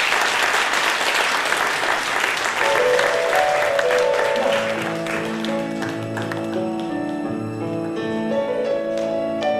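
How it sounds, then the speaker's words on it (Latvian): A crowd claps loudly and densely at a kindergarten graduation ceremony in Jaunmārupe in 2016. The applause thins out after about four seconds as sustained musical tones take over. "Aplausi Gustavam!"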